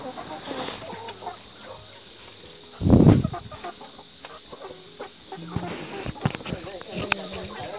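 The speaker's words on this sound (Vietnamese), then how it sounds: "Thì mới đi xuống bắt được gà." Chickens cluck and stir in short scattered calls alongside a sharp burst of flapping or scuffling, with a steady insect-like whine throughout and people talking nearby.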